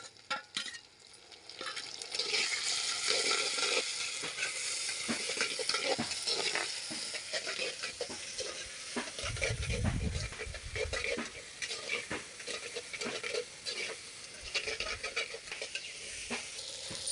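Onion and tomato fry in a clay pot with a constant sizzle and crackle, mixed with frequent ladle scrapes and stirs, and a low rumble briefly swells near the middle.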